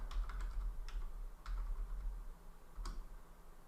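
Someone types an IP address on a computer keyboard, a few quick irregular clusters of key clicks separated by short pauses, close and fairly quiet against a low background hum.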